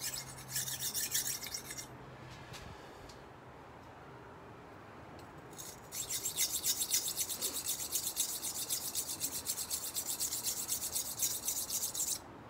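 Rhythmic rasping strokes of a butter knife being sharpened, close and steady, in two bursts separated by a quieter pause of a few seconds.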